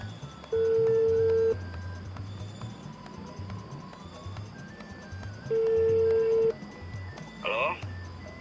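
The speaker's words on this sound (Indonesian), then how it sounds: "Ntar coba gua telepon." A telephone call being dialed: two long, even ringing tones several seconds apart, with a short burst of keypad beeps near the end, over faint background noise.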